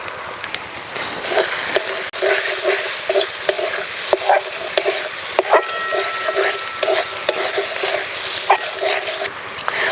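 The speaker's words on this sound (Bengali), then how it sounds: "উনুনের জাল কমিয়ে দিয়ে মশলা ভালো করে ভেজে নেব" Spices with salt, turmeric and Kashmiri chilli powder frying in oil over lowered heat for a fish curry, steady close sizzling with repeated spatula scrapes and taps as they are stirred.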